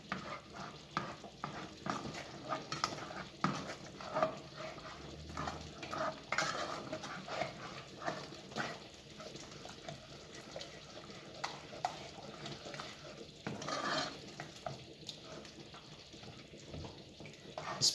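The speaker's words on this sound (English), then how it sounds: "Give it a good little stir." A spoon stirs a cheesy tuna casserole sauce made with cream of mushroom in a pot, giving soft, quiet scrapes and wet sloshing in an irregular rhythm, with faint kitchen background.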